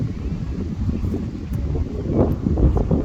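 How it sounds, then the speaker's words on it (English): Steady wind buffeting the microphone outdoors, a low continuous rumble with gusts that swell toward the end, no voices. "Also wind. Yeah, I'll blame the wind. It's quite windy."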